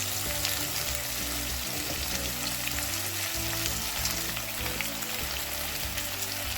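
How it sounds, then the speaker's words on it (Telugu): Chopped vegetables for sambar fry steadily in a tempering of oil and dried red chillies, a dense continuous sizzle with soft stirring scrapes throughout, close and even in level. "కట్ చేసి పెట్టుకున్న వెజిటేబుల్స్ అన్నీ తాలింపులు వేసి కలుపుకుంటాం"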